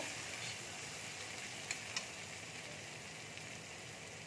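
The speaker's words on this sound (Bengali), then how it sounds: "এই মশলাগুলো সব একসাথে ভেজে নেব।" Chili powder and spices frying together in a hot pan, a quiet, even sizzle throughout with a couple of faint stirring scrapes.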